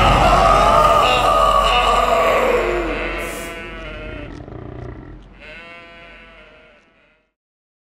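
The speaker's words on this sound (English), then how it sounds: "How am I supposed to hurt the goats?" Loud, drawn-out goat bleats in a video game, several overlapping cries that fade out into silence at the end.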